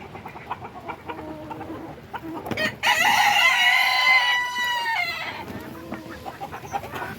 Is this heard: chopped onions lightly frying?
no